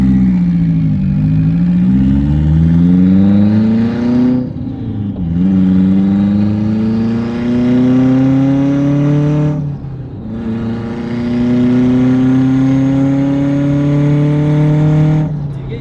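A 500 hp Mitsubishi Evo 8 accelerates at full throttle in hot weather, engine note climbing steadily through three gears with brief dips at each shift, loud and close, with some talk underneath.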